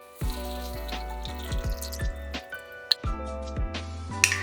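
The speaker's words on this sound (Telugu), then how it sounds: "ఇప్పుడు మనం హై ఫ్లేమ్లో పెట్టుకొని చింతపండు వాటర్ పోసుకోవాలి." Tamarind water is poured into a hot pan over high flame for egg curry, giving several short splashing and dripping pours with brief gaps, close and moderately loud.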